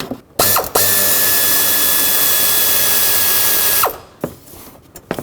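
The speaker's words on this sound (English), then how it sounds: "I'm going to stick my socket with an extension down in here. It's a 13mm socket, and I'm going to try and remove this one." A socket wrench with an extension and a 13mm socket works a bolt loose on a 2003-2021 Chevrolet Express during an A/C belt job, giving one loud, steady mechanical whir of about three seconds, with brief clicks before and after.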